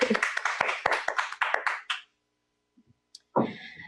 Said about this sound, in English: I think we should all give him a round of applause